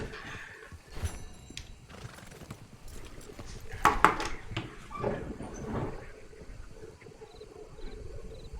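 A horse whinnies loudly in the middle while hooves clip-clop underneath, set against a busy, rustling background in the video game Red Dead Redemption 2.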